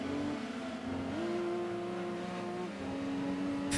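Opel Vectra engine in Gran Turismo 2 holding a steady drone with a small step up in pitch, loud and continuous, no talking over it.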